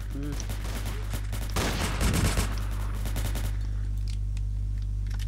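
Rapid bursts of gunfire in the video game Breaking Point, loud and close, a dense volley of shots in the middle with scattered single pops after, over a steady low hum.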